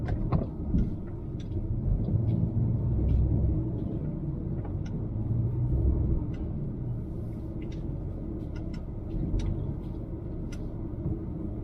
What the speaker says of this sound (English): you've got traffic backing up right here.